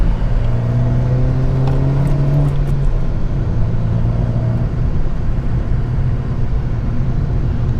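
Honda Civic Type R engine, a tenth-generation car fitted with a swapped rear sway bar, pulls hard through sharp rural corners and then backs off, its rising engine note giving way to steady close-up cabin drone and road rumble.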